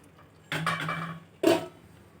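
A lid goes onto a cooking pan of spinach, two close metallic clanks about a second apart, the first ringing briefly and the second a sharper knock, in an otherwise quiet kitchen.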